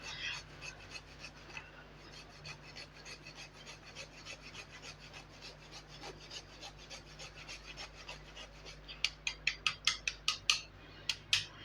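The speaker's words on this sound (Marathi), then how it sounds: "जायफळ असं कायम फ्रेश किसून घ्या." Fresh whole nutmeg grated by hand, a soft continuous rasping scrape that turns into sharper, rhythmic strokes near the end, close and quiet.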